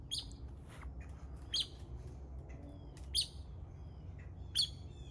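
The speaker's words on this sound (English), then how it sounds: "The birds approve." Birds on an old-growth longan farm in Miami give three short, bright chirping bursts spaced a couple of seconds apart, fairly faint over a steady low outdoor rumble.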